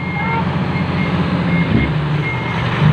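A Hino dump truck reverses at a dump-truck charity merit-making event in Yasothon, its reversing alarm beeping steadily and repeatedly over a loud engine rumble, with voices talking faintly in the background.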